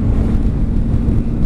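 Wind buffets the microphone outdoors on a breezy day of bike riding, a steady low rumbling roar filling the short stretch without any voices.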